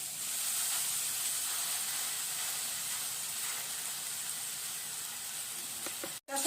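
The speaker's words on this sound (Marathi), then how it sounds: "आता भरडा आपण छान तुपात असा लालसर भाजून घेऊया" Washed wheat grits roast in ghee with a continuous soft hissing sizzle, steady and even, ending in a brief abrupt break.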